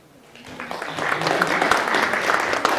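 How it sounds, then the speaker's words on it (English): An audience breaks into applause that swells over the first second and then holds as steady, dense clapping, with some voices mixed in. "So together, there's definitely the applause."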